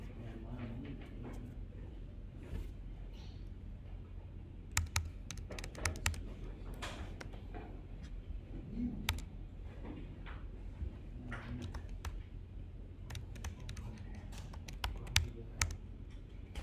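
Typing on a computer keyboard to set up a React project, with quick, close clicks and clusters of keystrokes in an uneven rhythm throughout, above a low background rumble.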